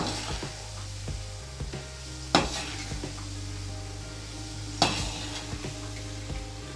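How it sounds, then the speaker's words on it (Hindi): Bitter gourd (karela) bhurji sizzles in hot oil on a high flame, a steady crackling fry broken by occasional sharp clinks and scrapes of a spatula against the pan, with no one talking. "अब 2 मिनट फ्राई कर लेना है।"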